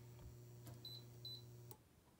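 Short electronic beeps from the touch controls of an induction cooktop installed in an Airstream, faint chirps over a steady low hum, with a click and a louder tone near the end.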